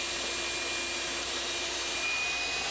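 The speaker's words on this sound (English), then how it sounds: "But I go ahead and just get all the vacuuming done early before I change the bearings" A vacuum cleaner sucks dust out of a GE/AO Smith 1-1/8 hp motor for a Shopsmith Mark V during a rebuild, giving a steady, loud, airy whooshing drone with no talking.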